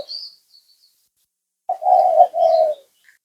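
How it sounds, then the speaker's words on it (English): Doves cooing on Peng Chau Island, Hong Kong, heard after a brief high bird chirp. A close, clear two-part coo follows a pause, with a few faint tweets between the notes. "We used to hear these doves on the farm as well."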